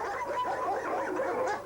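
Many dogs bark and yelp together in crowded cages at the SPA animal shelter in Gennevilliers, a dense, continuous chorus of overlapping barks at moderate distance.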